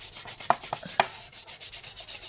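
Rhythmic back-and-forth scraping of a sanding block rubbing the gloss off a surface, steady strokes close up with a couple of sharper knocks.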